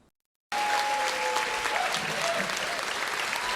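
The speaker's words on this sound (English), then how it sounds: "I'll take that applause and give it to Art Bell" Studio audience applause played during a paranormal-themed radio talk show, a dense, steady burst of clapping that starts abruptly after a brief silence and carries on loud and even.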